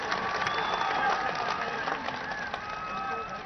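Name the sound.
crowd applause at election rally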